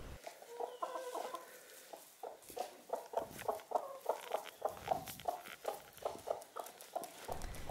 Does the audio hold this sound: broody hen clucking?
yes